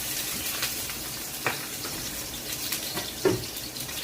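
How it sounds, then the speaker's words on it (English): Onion dropped into hot olive oil in a pan while making spaghetti, a steady close sizzle with a few sharp crackles and pops across a few seconds. "I add my olive oil. I add my onion."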